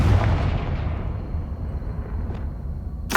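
A Confringo blast spell explodes in Hogwarts Legacy, a loud booming burst that rolls and decays over a few seconds, followed by a sharp crack at the end.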